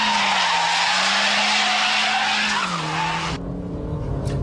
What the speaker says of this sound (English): let the tail go right out, and then hammer the throttle to bring it straight.